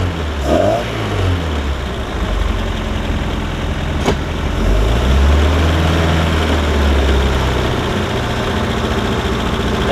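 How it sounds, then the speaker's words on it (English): A Mercury MerCruiser 3.0 boat engine with a new fuel pump and carburetor, after sitting nine years, idles steadily at a slightly high speed, a loud continuous rumble with a wavering low drone throughout. "It idles a little bit higher than I would think it would"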